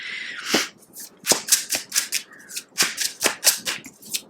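A deck of tarot cards being shuffled by hand, a series of sharp riffling snaps and flutters in quick irregular bursts, close and crisp, with no one talking.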